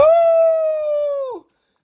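A person imitates a coyote howl, one long sustained rising-and-steady wailing note from a close voice that breaks off abruptly near the end, leaving silence, set beside a cold plunge with glow sticks in the water.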